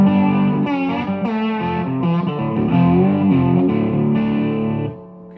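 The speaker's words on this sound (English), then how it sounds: "Without the boost, it's that real natural mid-range Supro distortion." An electric guitar plays a short riff through a Supro Royale amplifier with no boost, giving a gritty, mid-heavy natural overdriven tone that rings out before cutting off.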